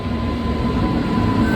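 A train passing in the background; a continuous close rumble and rattle of rail cars with a steady high tone above it, no voices.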